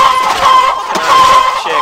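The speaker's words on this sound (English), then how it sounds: "Chickens." Video game chickens cluck in a loud, close, overlapping flurry, a busy fowl chatter filling the brief moment.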